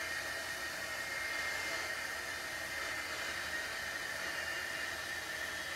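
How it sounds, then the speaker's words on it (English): An old handheld heat tool blows hot air to set white embossing powder on black cardstock: a loud, steady, hissing whir that runs without a break and has no voices. "Then we're going to heat set these. So hang tight. This is going to get loud."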